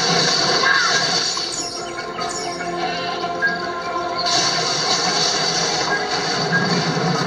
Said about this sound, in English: Press the attack button to clear this debris.